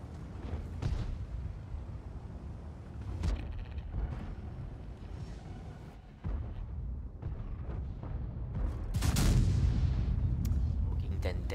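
Several heavy booming cannon blasts from a tier 10 tank in World of Tanks, spaced seconds apart, with rumbling engine noise and a voice talking underneath.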